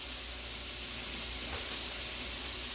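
Beef sautéing in a skillet for a Philly cheesesteak grilled cheese, a steady, close, even sizzle and hiss holding level throughout with no talking.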